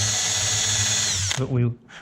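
An electric drill bores out a rivet in an aluminium wing spar during a CriCri airplane build. The steady, close, high-pitched whine runs for over a second, then winds down with a short rattle as the bit stops.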